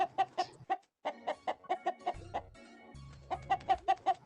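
Hens clucking in quick, rhythmic bursts of short calls, close and clear, with a brief gap midway and a faint low hum beneath.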